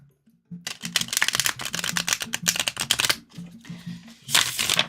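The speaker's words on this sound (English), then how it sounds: "Very thick cards, but you know what? Because they're skinny, they shuffle." Thick tarot cards being shuffled by hand, a rapid run of crisp riffling flutters with a short pause and a final burst, close and clear with no talking.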